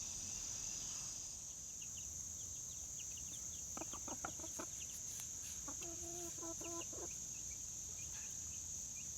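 Backyard hens cluck in short rhythmic bursts at moderate distance, heard over a steady high insect drone and faint outdoor hiss.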